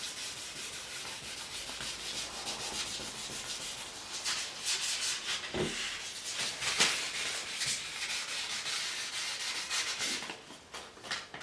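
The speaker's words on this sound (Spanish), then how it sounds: "pasamos la lija por toda la pieza, no solo por donde está dañada, sino por toda la superficie que vayamos a pintar." Sandpaper rubs across a scratched car trim piece in steady back-and-forth strokes, a close, continuous scratchy rasp lasting over ten seconds, with no talking.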